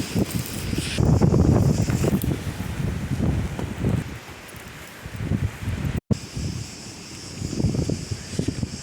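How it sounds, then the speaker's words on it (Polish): Strong wind buffets the microphone in gusts, rumbling and rustling loudly, briefly dropping out before the blustery noise returns. "Fajny wiatr wieje."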